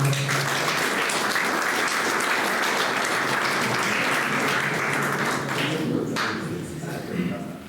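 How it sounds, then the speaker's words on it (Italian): An audience at an evening poetry gathering breaks into steady, dense applause welcoming a speaker, many hands clapping evenly for several seconds before it thins out. "Un applauso a Francesco"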